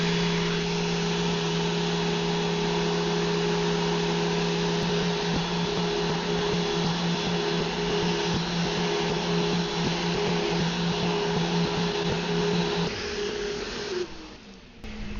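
A Vevor random orbital sander runs continuously with a steady, loud motor whine and buzzing hum for about thirteen seconds, then winds down and stops near the end; no one speaks.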